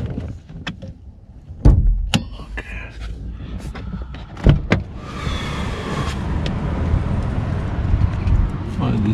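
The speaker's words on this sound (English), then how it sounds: "Let's open the bonnet." A car's bonnet being opened: a couple of sharp mechanical clicks and clunks of the latch and lid close by, followed by a steady hum, with people talking over it.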